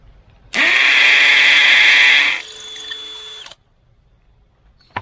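A power drill fitted with a masonry bit for Tapcon screws whines loudly and steadily for about two seconds, then drops to a quieter, lower-pitched run before stopping, followed by a brief tap near the end.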